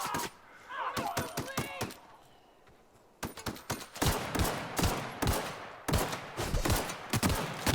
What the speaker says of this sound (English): Here you can watch my terrible combat with this pistol.